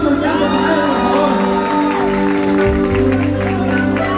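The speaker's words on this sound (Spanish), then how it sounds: "Un aplauso grande para él, por favor." Large crowd applauding and cheering at a vallenato concert in Dallas, Texas, with sustained clapping, whoops and shouts over music, steady and loud throughout.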